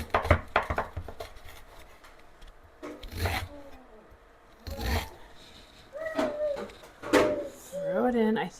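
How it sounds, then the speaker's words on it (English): Knife slicing through a chunk of cleaned ginger root on a board, several crisp cuts in an uneven rhythm up close, with a voice talking in between. "I'm just going to slice it up too."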